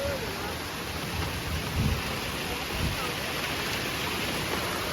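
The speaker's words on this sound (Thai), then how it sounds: "ฝนตกแรงมาก" A dense, steady roar of heavy rain fills the whole stretch, with a couple of low rumbles of thunder rising briefly beneath it.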